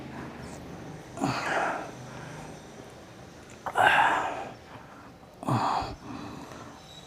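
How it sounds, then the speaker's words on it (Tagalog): Three heavy breathy exhalations from a person out of breath, spaced a couple of seconds apart, close to the microphone with quiet pauses between. "Hingal agad."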